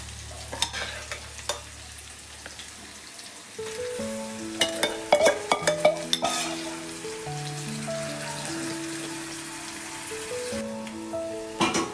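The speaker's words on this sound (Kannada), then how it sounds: "ಈಗ ಇದು ಫ್ರೈ ಆಗಿದೆ, ಈರುಳ್ಳಿ ಮತ್ತು ಕ್ಯಾಪ್ಸಿಕಮ್ಮು." Onion and capsicum fry in a pan with a steady sizzle, broken by repeated spatula scrapes and stirs, while gentle background music plays for most of the stretch.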